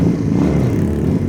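A customized motorcycle engine runs in a short, loud, steady burble with a rough low rumble and slight clatter, close by and with no voices.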